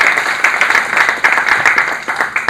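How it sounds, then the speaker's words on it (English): Seminar audience applauding to welcome a speaker, steady dense clapping that runs loud and continuous through the whole stretch with no talk over it. "I request all of you to have a round of applause to welcome Girish."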